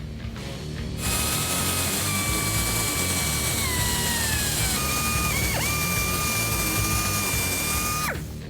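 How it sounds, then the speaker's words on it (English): An electric drill starts up and runs loud and continuous for several seconds, its whine dipping as it bites through the firewall of a 1965 Ford Mustang, then winds down. "drill a hole from the inside out"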